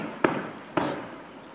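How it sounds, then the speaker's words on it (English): Fireworks go off in the distance in Cuenca, Ecuador, two sharp pops about half a second apart, each followed by a faint crackling tail over a steady background hiss. "Fireworks."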